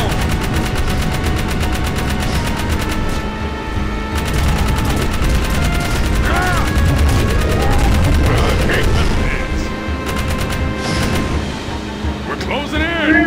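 Gunfire crackles in the Jak 3 video game, rapid shots layered under a busy game soundtrack with booms and whooshing effects throughout, loud and dense.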